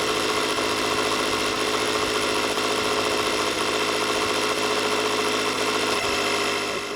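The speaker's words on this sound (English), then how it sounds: "turn the compressor on, then watch the needle" An air compressor runs steadily and loudly while pressure-testing a propane gas line installation, a dense, even mechanical roar with a constant drone that holds for the whole stretch without pause.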